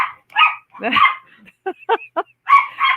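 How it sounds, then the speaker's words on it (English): Several dogs chase each other indoors, barking and yipping loudly and nearby in short irregular bursts, with a couple of quick sharp yaps in the middle. "that's my other dog chasing the other dogs"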